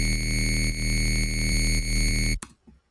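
Gritty, distorted synth bass lead in a dark electronic style, a sustained buzzing tone with bright harmonics droning loudly for about two seconds before cutting off abruptly into a brief fading tail.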